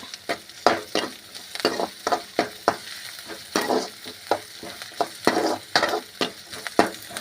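Onions sautéing in a pan for an egg dish, with a steady sizzle broken by about a dozen regular scraping stirs of a spatula, close and fairly loud, with no talking.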